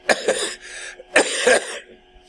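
Two harsh coughs close by, each a quick double burst, separated by a short pause.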